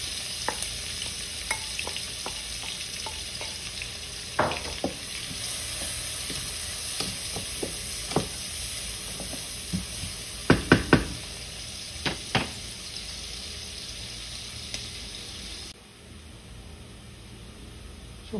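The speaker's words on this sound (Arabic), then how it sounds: "الحين بدأ عندي البصل يتحمر وياخذ لون" Onions frying in oil for quick chicken molokhia, a steady crackling sizzle with occasional knocks and scrapes of a spoon stirring the pan.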